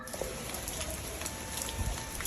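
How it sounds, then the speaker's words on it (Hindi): Steady rain falls outdoors on a cool evening, a soft continuous patter with scattered drops striking nearby surfaces, fairly faint and unbroken throughout, with no talking. "लेकिन आज बारिश हो रही है।"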